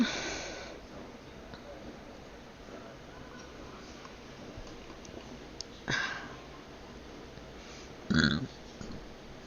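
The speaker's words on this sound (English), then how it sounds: "I just burped really loudly" A loud burp from a person during an online community meeting, a single broad burst near the end after a faint earlier one, over quiet room noise.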